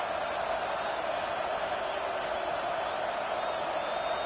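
A football stadium crowd roars loudly and continuously during a college game between Arizona and Michigan on third down, a dense, sustained wash of cheering with no breaks.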